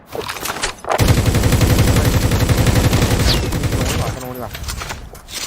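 Rapid bursts of automatic gunfire and explosions in Call of Duty Mobile rattle loudly for several seconds, with a shouting voice over the battle noise.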